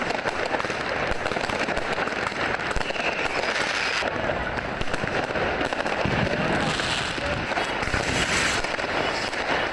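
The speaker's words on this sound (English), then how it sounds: "everybody is just firing their own firecrackers in the street" Fireworks and firecrackers set off in a city street on New Year's Eve in Berlin, a dense, continuous barrage of crackling bangs and pops, loud and close, with no voices.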